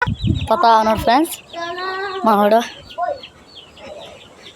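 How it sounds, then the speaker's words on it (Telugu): A hen clucks in a backyard with her chick nearby, giving a quick run of loud, close clucks in the first few seconds before fainter calls, while someone talks over them. "ఆడైతే కోడి పిల్లతో వచ్చింది ఫ్రెండ్స్."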